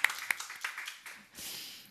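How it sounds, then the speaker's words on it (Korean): Applause from a church leadership training gathering, short and scattered with a few sharp claps up front fading into a soft, distant patter. "우리 한번 서로에게 격려와 축복과 응원의 박수를"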